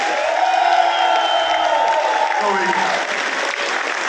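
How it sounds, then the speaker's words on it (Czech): Concert crowd at a show in Brno applauding steadily, a dense wash of clapping with faint cheers that holds at an even level throughout, with a voice talking under it. "zatleskejte Pítýmu"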